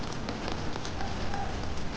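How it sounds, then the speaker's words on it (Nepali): Rain mixed with hail falling on a street, a dense, steady patter of many small impacts, fairly quiet and even. "पानी पानी हिँडिराख्नु भएको छ"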